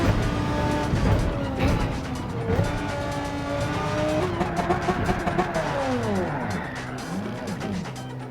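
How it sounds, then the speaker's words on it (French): A car drifting in the racing game Gran Turismo 7: loud engine whine with sweeping pitch changes and screeching tire squeal as the car slides, continuous game audio throughout, with faint talk mixed in. "je vais essayer de faire un drift."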